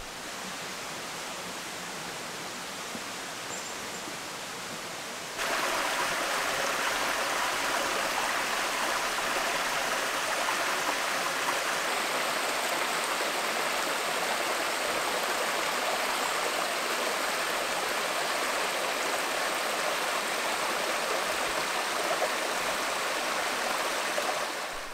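The Brive river, near the Cascade de la Brive in the woods of the Ain, flows in a steady rushing hiss that jumps suddenly louder and nearer after about five seconds, then stays constant and unbroken.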